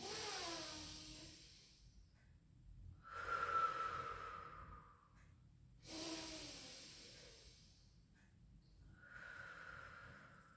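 Slow, deep breaths during a Pilates stretch, each long airy inhale and exhale heard close and soft, repeating in an even rhythm with quiet pauses between.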